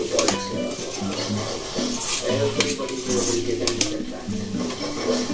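Masala curry frying in a pan, a steady close sizzle with spoon scraping and stirring clatter throughout, no voices.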